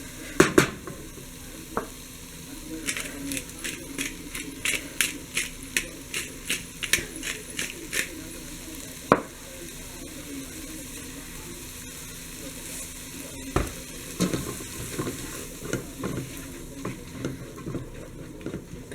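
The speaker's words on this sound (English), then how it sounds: "Make sure that's nice and low. I don't want it to get burned. I'll let this cook up for a little bit." Food sizzles steadily in a pan over a low to medium-low flame, with frequent light crackles and pops and occasional stirring clicks, close and fairly quiet.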